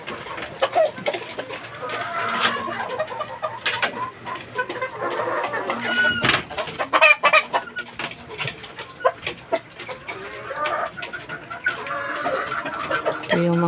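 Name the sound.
gamefowl chickens and roosters clucking in cages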